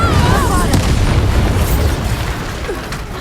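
Incendio fire spell cast in Hogwarts Legacy, a loud booming burst of flame that opens strongly and rumbles on, trailing off over about three seconds.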